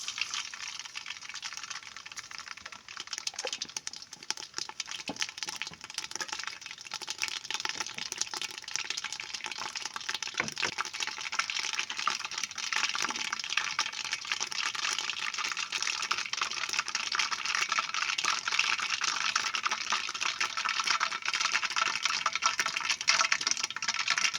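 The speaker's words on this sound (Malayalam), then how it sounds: "എണ്ണ ചൂടായി വന്നിട്ടുണ്ട് നമ്മൾ ഇതിലേക്ക് എന്ത് ചെയ്യാണ് കടുക് ഇട്ട് കൊടുക്കുകയാണ്" Mustard seeds spluttering and crackling in hot oil, a steady dense hiss of fine pops building slightly louder over time, continuous with no talking, while tempering for a homestyle grape pickle.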